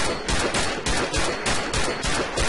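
Rapid bursts of video game gunfire crackle in quick clusters, loud and close, with brief gaps between volleys and no talking.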